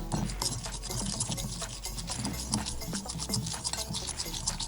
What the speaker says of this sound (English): let's go ahead and give that a good mixing